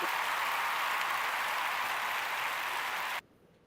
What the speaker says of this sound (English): That is applause.